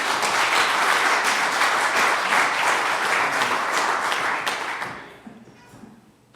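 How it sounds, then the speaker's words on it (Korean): An audience at an inauguration ceremony during an annual general assembly gives a burst of lively clapping. The applause is dense and even for about five seconds, then quickly dies away into quiet room tone. "박수를 일단 받아주실까요?"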